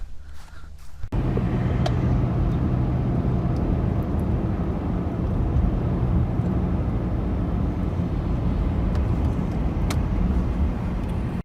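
A car drives along at steady speed near a state park with marina and dam, its engine and tyre rumble a constant loud drone after a door-like thump at the start, with no talking.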